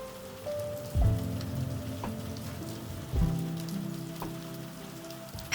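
Soothing rain falling steadily, a soft continuous patter with a few low thumps and drips standing out, quiet and even throughout, no voices.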